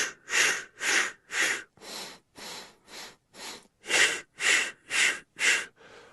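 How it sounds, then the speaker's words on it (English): Rhythmic breathing in a steady cycle of sharp inhales through the nose and forceful exhales through the mouth, about a dozen evenly spaced close breaths with brief silences between them. "you're going to inhale through your nose, as you probably heard, and exhale out your mouth"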